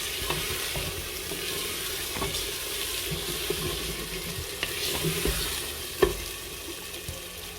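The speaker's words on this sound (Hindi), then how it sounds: "अदरक लहसुन और हरी मिर्च का जो पेस्ट बनाया है वो डाल देंगे और इसको भूनेंगे" Ginger, garlic and green chilli paste fries in a pan while being stirred, a steady sizzle running throughout with occasional scraping knocks of the spoon, close and moderately loud.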